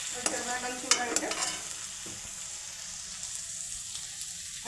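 Ingredients for green rasam frying and stirred in a pan, a soft steady sizzle with a few clinks of a spoon near the start, fading to a quiet, continuous crackle.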